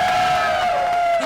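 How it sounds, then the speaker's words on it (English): A crowd at a contest cheers loudly and close by, with a sustained whoop rising above the noise for about a second. "Let's big round of applause for Don here."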